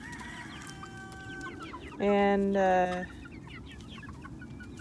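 Chickens cluck outdoors in a yard, a steady scatter of soft clucks with one louder, sustained squawking call near the middle; someone says a word briefly.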